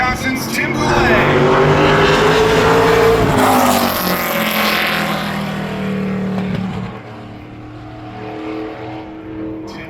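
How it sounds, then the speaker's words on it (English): The number 31 Toyota ARCA Menards Series stock car runs a qualifying lap at Berlin Raceway, its engine roaring loud and close then fading as it pulls away, with an announcer talking over it. "Next out onto the racetrack is the number 31 Michelle Bradley.com Toyota"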